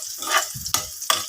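Onion and garlic browning in an old, no-longer-nonstick pan while adobong manok is prepared, with close sizzling and bursts of stirring and scraping, without talk.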